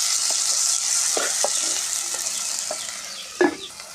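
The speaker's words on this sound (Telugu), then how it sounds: "తర్వాత ఉల్లిపాయ ముక్కలు వేస్తున్నాను." Chopped onions fry in a pan with a loud, even sizzle, broken by a few spatula taps and scrapes, one sharper knock near the end.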